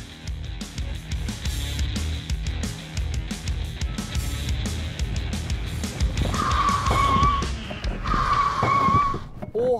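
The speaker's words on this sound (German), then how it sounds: "Wie schnell bremst der Eixam von 45 auf 0?" An Eixam two-seat electric mini car brakes hard from 45 km/h, tires squealing in two loud skids near the end over steady road and cabin noise.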